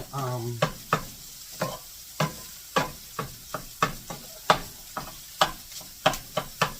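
Bacon frying in a pan, with a steady run of sharp, evenly spaced clicks and taps, like a utensil working the strips, over a faint sizzle with no talking.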